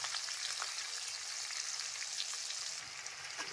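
Onions lightly frying in oil in a pan for a mutton recipe, steady close sizzling with scattered crackles and faint stirring scrapes, constant and uninterrupted by voices.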